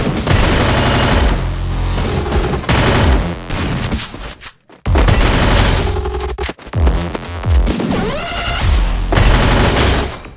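Dense, loud automatic gunfire and explosive booms from a Free Fire mobile battle royale match, in continuous rapid volleys with a brief break midway, over game music.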